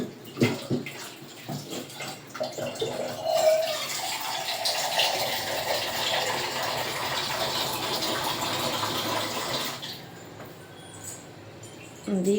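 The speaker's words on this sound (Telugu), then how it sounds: "ఇంకొంచెం వాటర్ వేస్తున్నా" Water gushes steadily into a vessel for several seconds, a broad rushing pour that stops abruptly, with a few clinks and handling noises around it.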